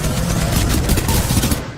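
Devotion weapon firing in Titanfall 2, a dense, loud, continuous burst of rapid automatic gunfire filling the whole short stretch with no voices.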